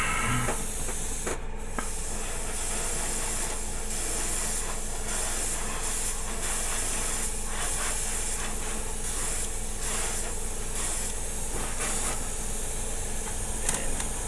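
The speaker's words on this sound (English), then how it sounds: "we're going to put a little bit of primer on these" Aerosol primer sprayed onto small model kit parts from a War of the Worlds kit by Pegasus Hobbies, a continuous close hiss that holds steady for several seconds.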